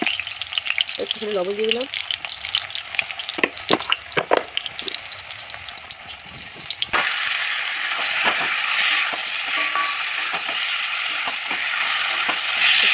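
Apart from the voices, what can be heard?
potatoes frying in hot oil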